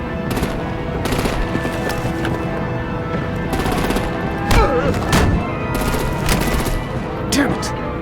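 Rapid machine-gun bursts and heavy gunfire from a Batman: The Enemy Within firefight, with dense repeated volleys and booming impacts throughout under a thick layer of battle noise.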